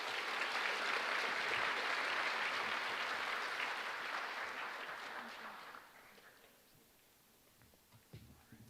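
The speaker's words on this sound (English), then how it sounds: "Please give everyone up on stage another round of applause." Audience applause at a high school honors night, a broad steady roar of clapping that fills the room for about five seconds, then thins and fades into scattered claps and low murmur.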